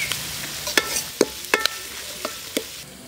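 Green chillies and curry leaves stirred while frying for puli inchi, a soft sizzle punctuated by about seven sharp spoon clicks and scrapes against the pan, close and without talk.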